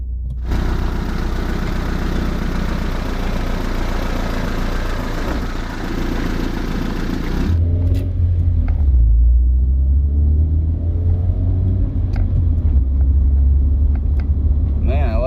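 A 1996 Honda Prelude Si engine runs loud and close, its revving roar dropping midway into a deeper, throbbing rumble that carries on steadily.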